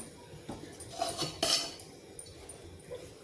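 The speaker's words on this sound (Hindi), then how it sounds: "और इस कढ़ाई को हम इस विनेगर से साफ कर लेंगे।" A metal kadhai being scraped and cleaned out with vinegar gives light, scattered clinks and scrapes of a utensil against the pan, quiet and close, with a few sharper knocks in the middle.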